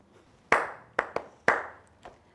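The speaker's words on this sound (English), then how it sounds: "See how I'm clapping for you?" Five distinct hand claps from one person, sharp and fairly close, with uneven spacing and short reverberant tails in a quiet room.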